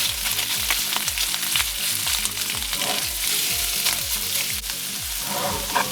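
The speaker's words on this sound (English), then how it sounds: "I'm going to add the mild Italian sausage" Mild Italian sausage fries in a pan with a steady, loud sizzle, while a utensil repeatedly scrapes and stirs to break up the meat.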